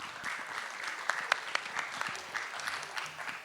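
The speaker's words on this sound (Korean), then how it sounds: "큰 박수로 강희진 선생님을 환영해 주시기 바랍니다" An audience at a workshop of a certified exercise specialists' conference claps to welcome a speaker, with scattered, fairly close claps forming a brisk, moderately quiet round of applause and no one talking over it.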